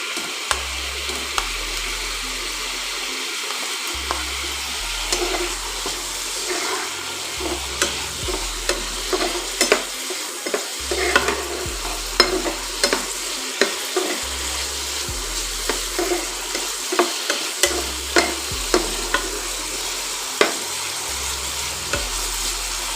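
Potatoes and masala cooking in a pan for an okra dish, a loud, continuous close sizzle broken by repeated scraping stirs and clinks of a spatula, with no voices.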